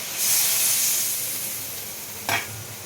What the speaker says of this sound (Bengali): মশলা ধোয়া বাটিটা দিয়ে দিচ্ছি জলটা